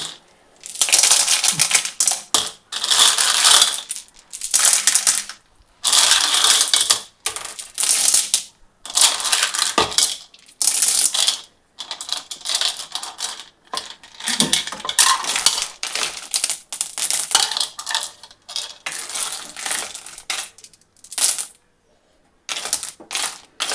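Clams tipped into a cooking pan of simmering rice water with salt, giving dense repeated clattering and rattling of shells against metal in bursts, loud and close, with brief pauses between pours and no talk.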